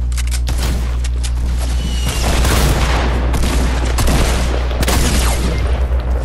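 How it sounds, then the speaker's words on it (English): Rocket launcher blasts in the battle game Fortnite, loud booming explosions and bursts of rapid gunfire layered over a constant low rumble, dense and close throughout. "They have a rocket launcher"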